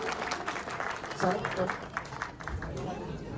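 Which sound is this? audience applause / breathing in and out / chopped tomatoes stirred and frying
audience applause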